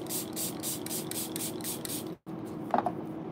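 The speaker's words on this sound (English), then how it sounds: "I'm just gonna use a setting spray," Makeup setting spray is pumped onto a makeup sponge in a quick run of repeated short spritzes, close and clear, then a brief pause before a softer rustle.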